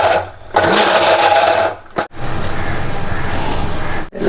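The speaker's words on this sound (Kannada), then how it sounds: "ಕೊಬ್ಬರಿಯನ್ನ ಫುಲ್ ಒಂದೇ ಸಾರಿ ಗ್ರೈಂಡ್ ಮಾಡಬೇಡಿ ಈ ಥರ ರಿಪ್ ಮಾಡಿ" A mixer grinder pulses fried coconut in short bursts, whirring loudly for a second or two, stopping abruptly, then running again, close by.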